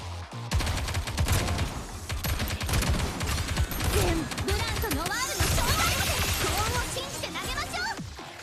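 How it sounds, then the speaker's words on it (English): In the game Nikke, a dense rattle of gunfire and a grenade blast sweep through a busy battle, with crackling impacts and chirping effects throughout, while a voice talks over it. "that's the grenade killing everybody"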